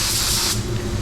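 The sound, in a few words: paint spray gun spraying matte finish at 31 PSI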